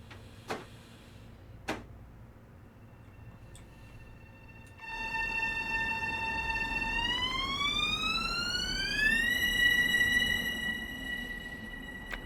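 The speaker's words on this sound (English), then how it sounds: "would you want to live that close to a train tracks though? If that's the noise these things make." Long Island Railroad train in Train Sim World 2: after two sharp clicks, a loud steady horn-like tone starts and glides upward in pitch, then holds, over constant rolling rail noise.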